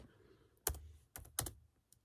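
Keys clack on a Lenovo ThinkPad T490 laptop keyboard as a command is typed, with a few quiet, separated keystrokes and short bursts of two or three presses close up.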